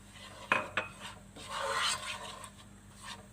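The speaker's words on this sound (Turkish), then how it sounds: "Unumun kokusu çıkması için birazcık kavuruyorum." Three spoonfuls of flour toasting in melted butter in a pot for tomato soup: faint, close scraping and rubbing of a spoon stirring the mix, with a couple of soft knocks against the pot and no talking.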